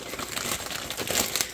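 A plastic clothing package crinkles and crackles as it is opened, a brief, close burst of dense rustling handling noise with no talking.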